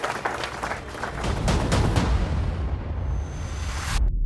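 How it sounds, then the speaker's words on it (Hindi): Loud studio audience applause at a competitive show, a dense wash of clapping that swells and holds steady before cutting off abruptly near the end. "एक बार जोरदार ताली हो जाए इसके लिए."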